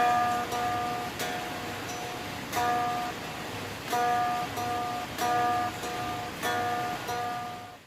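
Sundatang, a plucked lute, with its melody string picked on every beat of a four count and its drone string on beats one and three; steady repeated plucks ring over a faint, noisy background with no talk.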